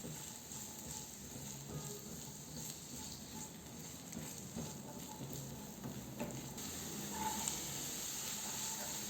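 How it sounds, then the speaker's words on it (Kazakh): Onions frying in oil in a pan over medium heat, a soft steady sizzle and hiss running quietly throughout at low level, with no talking. "Табаға сұйық май құйып, орташа отта бірінші пиязымызды қуырамыз."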